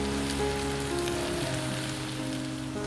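Vegetables for fried rice fry in a pan, giving a dense, even crackling hiss close by with no voices.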